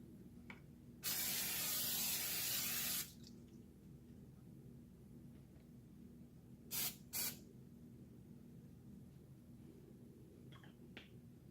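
A single long hiss of cooking spray into a pan lasts about two seconds, followed later by two short quick spritzes in an otherwise quiet room.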